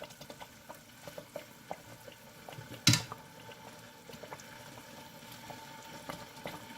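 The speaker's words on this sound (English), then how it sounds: "Oh, there it goes. It's starting to boil." A pot of food on a stove coming to a boil, soft bubbling and simmering with light clinks, fairly quiet and close, one sharp louder clatter near the middle, no talk.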